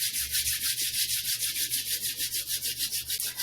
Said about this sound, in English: Rub the palms together vigorously.